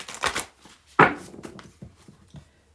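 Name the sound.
shuffling a deck of cards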